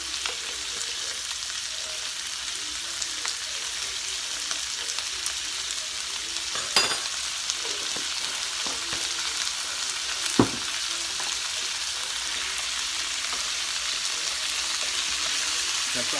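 Diced sweet potatoes and carrots with garlic cooking in a pan, a steady quiet sizzle and crackle throughout, with a couple of sharp clicks from stirring utensils.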